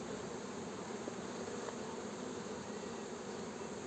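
Honeybees buzz steadily in an opened hive during a spring inspection in Muğla, a dense continuous drone close up with no voices.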